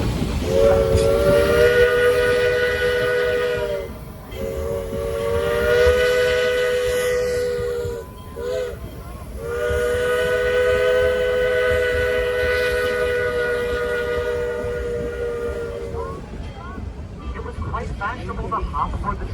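A Georgetown Loop railroad train in the Colorado mountains sounds its whistle in long, loud, steady blasts separated by short breaks, over the rumble of the moving train, while people talk underneath.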